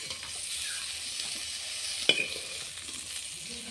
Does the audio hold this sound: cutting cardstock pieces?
no